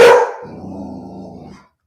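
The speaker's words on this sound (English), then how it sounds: "Good place to pause for the dog to bark." A dog barks once, close and loud, followed by a lower rumbling growl that carries on for about a second before stopping.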